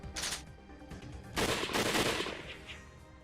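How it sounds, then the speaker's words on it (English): Imperial soldiers in the visual novel Hakuoki: Edo Blossoms loose a rifle volley, first a short burst of shots, then a longer, denser crackling barrage that fades off, loud and close, with no voices. "the Imperial soldiers fired their rifles blindly at him"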